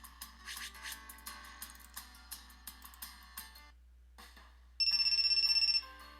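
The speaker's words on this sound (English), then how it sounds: "there's that phone ringing." A telephone rings in the visual novel game The Fruit of Grisaia, a rapid electronic trill bursting in loud and sustained near the end after quieter game music and a brief lull.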